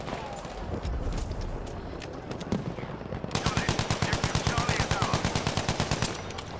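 Automatic gunfire in the video game Battlefield V, scattered shots followed by a long, steady rapid burst of loud, evenly spaced rounds, near and dominant.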